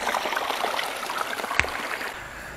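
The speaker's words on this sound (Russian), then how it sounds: "Друзья, вообще классный ручей. Вон оттуда из леса он бьет." A small stream runs out of a forest onto a river beach at Atarskaya Luka in Russia, its steady, close, broadband rushing and trickling continuing without pause, with one brief sharp click partway through.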